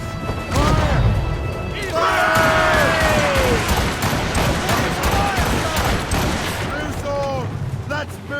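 Ship cannons fire a rolling volley in Assassin's Creed Rogue, producing heavy booms and crashes one after another, with shouting crew voices and a dense battle din throughout.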